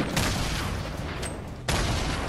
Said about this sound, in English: Grenade launchers are scary.